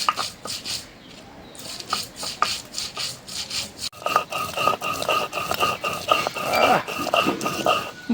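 Cumin and spices ground into a paste on a stone, a steady back-and-forth rubbing scrape that grows louder and denser in the second half, close by.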